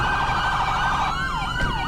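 Police vehicle sirens wail loudly and steadily up close, the tone holding then sweeping up and down in rising and falling yelps toward the end, over a low rumble of engines.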